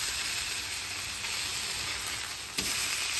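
Garlic and potatoes sizzling on a griddle, a continuous close frying hiss with a brief stir or scrape near the end.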